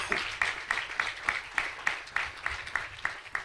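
A church congregation claps together in a steady rhythmic beat of sharp, evenly spaced claps, about three per second, filling a large hall with no talking over it.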